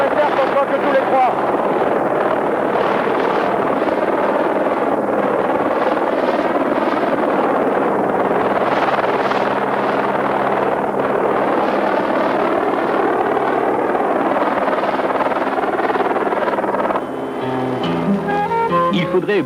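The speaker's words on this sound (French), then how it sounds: "Il a du mal l'hélico là." A helicopter flies and hovers nearby with a loud, continuous rotor and engine drone, apparently laboring, while voices talk over it; the noise shifts near the end.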